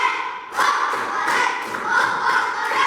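A classroom group claps a rhythmic encouragement chant, with steady repeated hand-clap bursts at an even beat over a murmuring room of voices, fairly loud and close.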